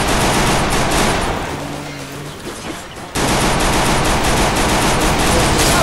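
Rapid automatic gunfire in a Free Fire Clash Squad match, loud and dense bursts running almost throughout with a brief quieter dip midway, no talking.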